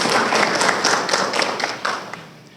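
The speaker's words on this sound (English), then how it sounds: "So let's give him a round of applause." A luncheon audience at an Albany State University legislative appreciation event applauds a guest, a dense, steady patter of many hands that thins out toward the end.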